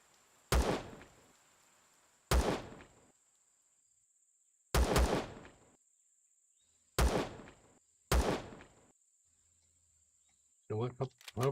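Sniper rifle shots from the video game Empyrion crack out five times at spaced intervals, each sharp and loud with a short decaying tail, over a steady thin background tone.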